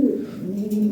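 A Lahori Sirazi pigeon gives a short, close, low throaty coo, clear and alone.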